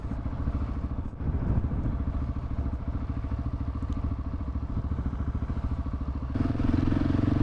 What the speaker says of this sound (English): I'm gonna make Mitchell ride in front of me a bit